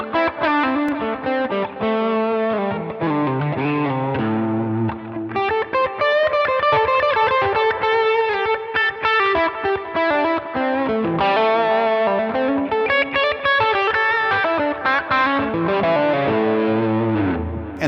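Electric guitar run through a Line 6 Helix Horizon Drive distortion with the gate turned nearly off, playing a continuous, loud, dense riff of sustained chords and moving notes with no talking.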